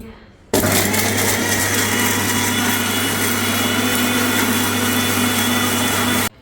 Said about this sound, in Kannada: ಈಗ ಈರುಳ್ಳಿ ಟೊಮೊಟೊ ಎಲ್ಲ ರುಬ್ಬಿದ್ವಲ್ಲಪ್ಪ